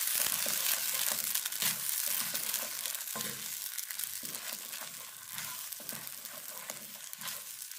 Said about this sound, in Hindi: पेस्ट को डाल के अच्छे से मिक्स करते हुए इसको पकाना है